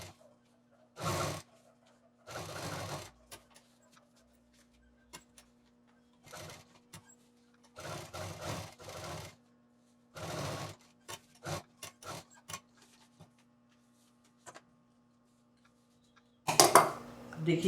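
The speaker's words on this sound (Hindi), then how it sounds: "अब इधर से हम इस पर मशीन चला देंगे।" A sewing machine stitches piping onto a shoulder bag in short, faint mechanical bursts separated by quiet pauses, against a low steady hum, with a few handling rustles and a louder burst at the end.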